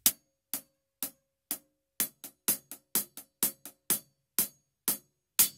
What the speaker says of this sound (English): the crisp, clean, single note on the top of the hi-hat